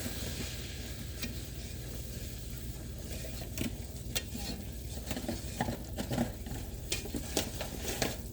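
Flour being stirred in a pan until golden, a steady scraping and sizzling stir that runs continuously with faint clinks of the utensil and no talk.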